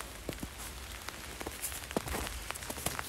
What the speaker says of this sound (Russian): Все стекла мокрые, идет дождь.